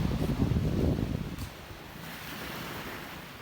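Waves wash onto a beach shore, a loud rushing surge that fades into a steadier, softer wash, with wind buffeting the microphone throughout.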